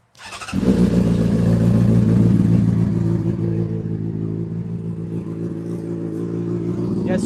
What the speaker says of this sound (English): I'll do a cold start. I'll get some revs for you guys